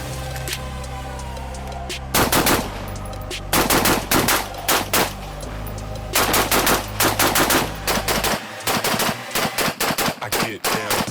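Desert Tech Quattro-15 rifle firing through a 53-round magazine, loud rapid shots in several bursts, the first beginning about two seconds in and more strings following after short pauses, with no talking.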